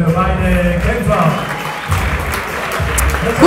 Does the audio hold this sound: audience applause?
yes